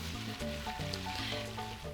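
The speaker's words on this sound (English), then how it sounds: "I'm frying the chicken until they're completely cooked and golden brown." Chicken sizzles and crackles in hot oil, a steady frying hiss heard close up under a low background hum.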